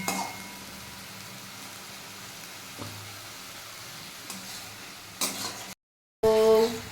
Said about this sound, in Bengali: তো এটা এদিকে কষানো হচ্ছে